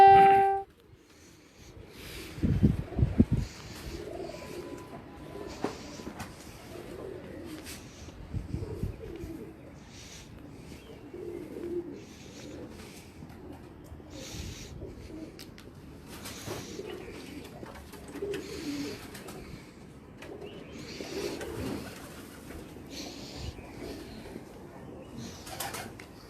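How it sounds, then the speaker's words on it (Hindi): Pigeons coo repeatedly on a rooftop in Karachi, soft rolling calls recurring through the scene with occasional wing flaps and faint background noise, no talk. "उस्ताद आतिफ की छत पे मौजूद है और उनके वाले कबूतर और जोड़े वाले कबूतरों का शौक कराते हैं"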